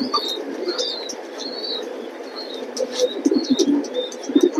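A male racing pigeon coos repeatedly in soft, throaty bursts, with faint chirps and a low background murmur around it.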